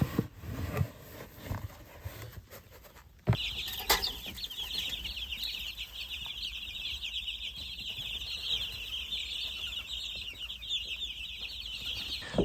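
Meat chickens at an off-grid homestead in the woods keep up a steady chorus of clucking and chatter, close and fairly loud. A sharp knock or movement sound comes near the start.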